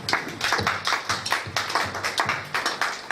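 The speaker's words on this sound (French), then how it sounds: "Est-ce qu'on peut encore applaudir pour la parole?" Church congregation in Montréal applauding together after a message, a dense run of hand claps with slightly uneven rhythm, fairly close and steady for about three seconds.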